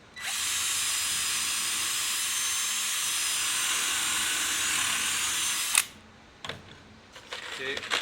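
A power drill runs steadily for about six seconds, driving screws into the wooden block of a homemade gumball machine, then stops, followed by a few scattered clunks and handling noises.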